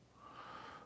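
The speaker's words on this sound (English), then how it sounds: "my dog is sleeping and snoring" A sleeping dog snores in a single soft, wheezy breath, brief and quiet, with no talking.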